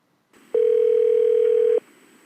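A single steady ringback tone on a phone line, one long electronic beep over a second long, heard clearly over a faint line hiss, with no talking.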